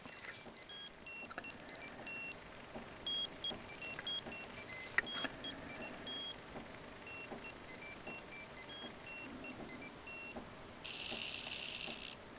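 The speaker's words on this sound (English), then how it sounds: "if you want to check what the alarm does and how the alarm sounds" A Swatch Funk Master Musicall SLK115 watch alarm beeps in rapid high-pitched bursts, repeating in quick clusters with short pauses, ending in a harsher buzzing tone.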